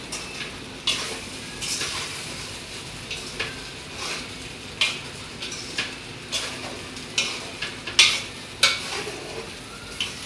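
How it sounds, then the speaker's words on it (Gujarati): Dudhi dhokla batter is stirred in a pan, with a soft simmering hiss under repeated sharp scrapes and taps of a spoon against metal, roughly once a second, close and without voices. "ધીમે ધીમે આવી રીતે હલાવતા રહે. નકર આપણા ઢોકળા નીચે બળી જશે"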